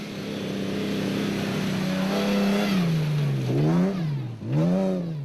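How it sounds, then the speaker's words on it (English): A Ford Ranger off-road racing truck runs in the Premier SP class, its engine note holding steady, then rising and falling through several sharp revs and gear changes, loud and close. "from Lode Brain and Rion Greyling, who were enjoying themselves hugely in a maiden outing in the Rubicon Racing Ford Ranger running in the Premier SP class."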